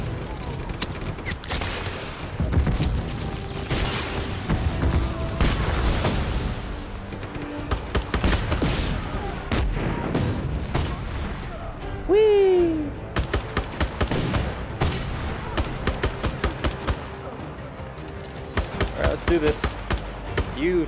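Dense gunfire from the Just Cause 3 video game, with rapid bursts and heavy shots that continue almost without a break and sit loud in the foreground, plus occasional game sounds cutting through.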